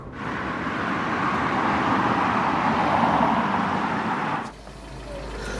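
A Rover 416SLi Tourer car gives a steady, fairly loud broadband road and engine roar that holds for about four seconds, then drops abruptly to a quieter low rumble.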